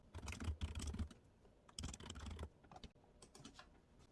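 Someone types on a computer keyboard while entering details into an online car insurance form, with quiet, uneven bursts of key clicks separated by short pauses and no voices.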